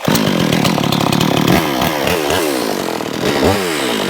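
A two-stroke chainsaw engine runs loud and close, its buzzing pitch rising and dipping as the throttle changes, with no voices.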